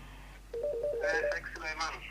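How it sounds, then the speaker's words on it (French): A telephone rings during a religious question-and-answer broadcast, its repeating electronic tone close and steady, with someone speaking over it. "il y a le téléphone qui sonne"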